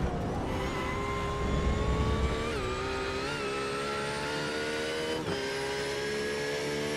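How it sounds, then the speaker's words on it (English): A Porsche race car in a sim racing game at Road Atlanta screams past at high revs, its engine note rising and shifting through quick gear changes. It stays loud and continuous, with no voices over it. "That's Malashevsky in the number 6 Porsche"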